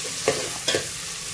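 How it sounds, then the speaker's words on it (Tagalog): Ginger is sautéed in a pan for chicken tinola, with a steady low sizzle and two quick stirring scrapes, close and brief, with no voices. "Igisa po natin siya ng maayos guys para ano, maganda po yung kinalabasan ng ating tinola."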